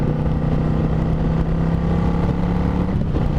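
Suzuki Marauder VZ800 motorcycle on the move, its 800 cc engine giving a loud, steady low rumble with a deep fixed hum and a slight change in pitch near the end, heard close up and with no talking.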